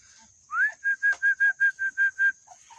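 A person whistles to call a flock of chickens, a rising note followed by eight short, evenly spaced repeated whistles, close and clear with faint clucking between.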